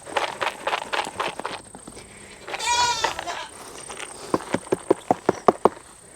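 Goats bleat at a sale barn, one drawn-out call rising in the middle between bursts of shuffling hooves on the barn floor, then a run of sharp knocks and thumps close by.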